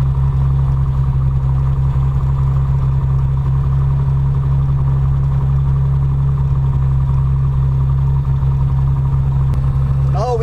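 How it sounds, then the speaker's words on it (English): A plane's engine runs steadily as the aircraft turns on the ground, a loud constant low drone with a strong hum and unchanging pitch throughout. "The plane is turning right on the ground."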